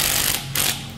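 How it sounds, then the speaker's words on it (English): Bolt being screwed down with a ratchet during cam and valve spring replacement on an L98 6-litre engine, a short, close, rapid ratcheting clicks alone for about a second. "And then we just screw the bolt down,"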